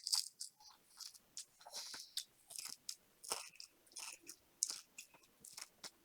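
Close, crisp crunching and chewing of a chewy Dubai cookie filled with worms, with repeated irregular bites and mouth noises at a quiet level and no talking.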